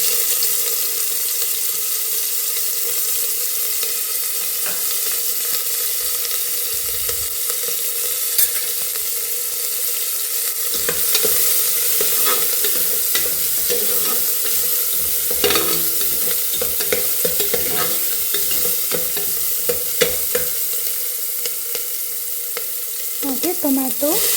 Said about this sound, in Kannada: ಈಗ ಇದಕ್ಕೆ ಈರುಳ್ಳಿನ ಹಾಕ್ತಾಯಿದ್ದೀನಿ